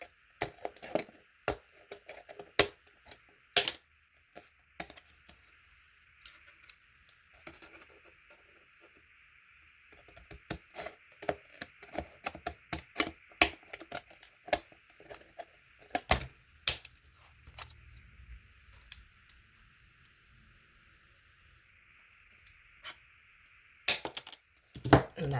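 Scissors snip through a paper binder insert for a Louis Vuitton desk agenda in a series of close, crisp clicks and cuts, irregular and bunched, over a faint steady background hum.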